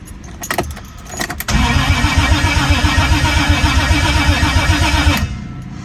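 Toyota 1JZ engine: keys jingle briefly, then it cranks and catches into a loud, steady, slightly rough running note for about four seconds before cutting off, with no talking.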